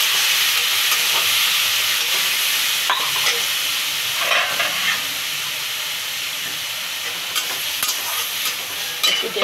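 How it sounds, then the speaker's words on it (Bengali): Spice masala sizzles and hisses steadily in a pan after water is poured in, a continuous loud frying fizz with occasional stirring scrapes and no voices. "একটু মশলা পাকানোর জন্য একটু জল দিয়ে দিলাম"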